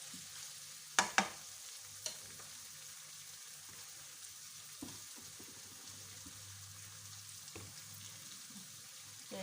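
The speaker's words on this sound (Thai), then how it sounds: "ผัดให้นิ่มพักนึงนะคะ" Betong yellow noodles stir-fried in a pan on a weak home stove, a steady low sizzle with a few sharp clanks of the utensil near the start and faint scraping throughout.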